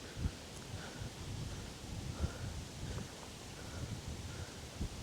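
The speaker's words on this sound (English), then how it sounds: "Ooh, the wind!" Wind gusts outdoors in bushland during a yoga session, a soft, fairly faint rushing with low buffeting and rustling leaves, swelling briefly a few times with no talk.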